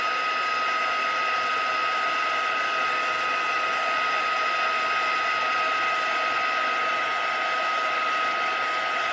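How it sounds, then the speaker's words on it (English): An embossing heat gun runs on its high-speed setting, giving a steady, loud blowing whoosh with a faint whine on top. It holds an even level for the whole stretch, with no voices. "And you just want to keep moving your heat tool around"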